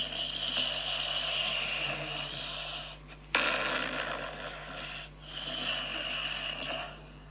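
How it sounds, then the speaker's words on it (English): A person snores in long, rough, rasping breaths, about three drawn-out snores separated by short pauses, close and fairly quiet with a steady low hum underneath. "You may think that this is just snoring"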